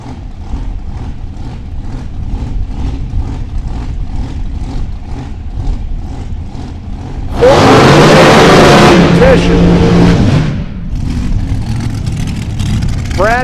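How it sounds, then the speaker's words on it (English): A top dragster launching down a drag strip at a Great Bend race, a loud roaring burst of engine noise rising over steady crowd and PA ambience before fading away. "Top dragster coming at us here."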